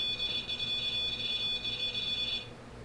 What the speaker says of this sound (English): Can you stop using the REM pod for a second?